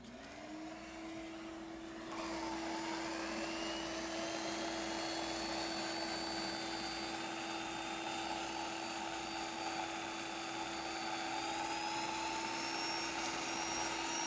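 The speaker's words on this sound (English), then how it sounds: "it's sucking the dust up" Shop vac pulling up tile dust during tile work, a steady loud motor whine with a rising pitch that settles into a continuous close drone with no talk.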